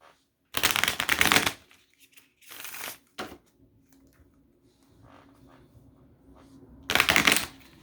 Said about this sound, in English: Oh my God, that was an ugly shuffle.